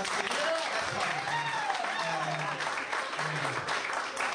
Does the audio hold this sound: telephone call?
no